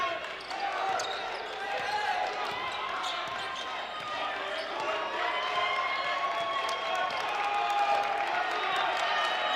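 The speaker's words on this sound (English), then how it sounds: "Crowd starting to get into it." Crowd noise at a high school basketball game between Shady Spring and Fairmont Senior, a steady dense roar of voices building gradually over several seconds, with a commentator talking over it.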